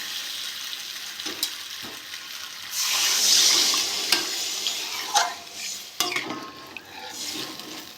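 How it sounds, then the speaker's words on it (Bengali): Water is poured into a pan of potatoes frying in spices for aloo dum, setting off a loud hissing sizzle that swells and then settles into bubbling, with a few utensil knocks and stirring scrapes nearby. "আমি এবার জল দিয়ে দেবো।"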